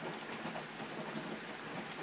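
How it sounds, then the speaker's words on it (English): Hail pours down during a storm, a dense, steady pattering hiss of ice striking surfaces that continues without a break and without any talking. "Look at all the hail, kids."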